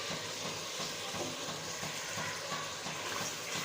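Apple gourd pieces sizzle and fry in chicken masala in a hot pan, a steady close crackle running without a break.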